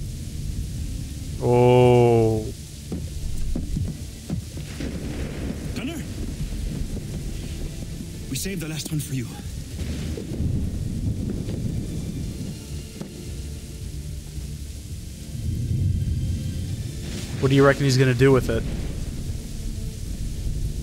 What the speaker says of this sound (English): You can't really hear him over the rain